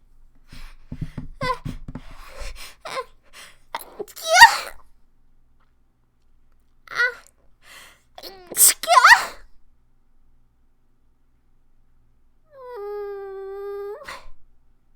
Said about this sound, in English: And I'm going to sneeze again because I'm sick.